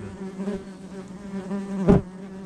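Ground wasps buzz at their nest in the earth, a dense, close, continuous hum of several insects, with one louder buzz swelling near the end as a wasp passes close.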